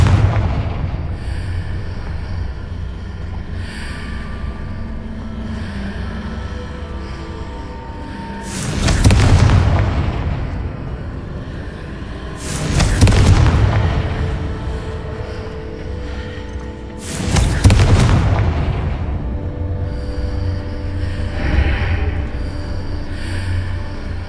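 Three heavy blasting-spell explosions from the Hogwarts Legacy fantasy game, each a booming burst spaced several seconds apart over a low rumbling ambient background.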